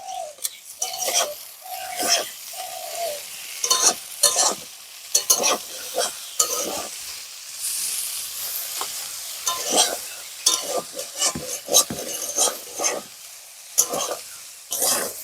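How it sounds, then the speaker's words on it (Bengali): Potatoes and leafy greens fry in a wok under brisk stirring, with repeated scraping strokes over a continuous close sizzle. The strokes come in uneven bursts for the whole stretch. "আলু আর ডিমার শাক একসঙ্গে ভাজা হয়ে গেছে"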